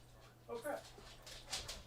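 A big dog whimpers and gives a few soft yips nearby, faint and brief, under a voice talking.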